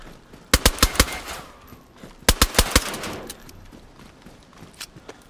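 Gunshots in the survival video game DayZ on Chernarus: two loud, close volleys of four or five rapid sharp shots, about a second and a half apart, then quieter clatter.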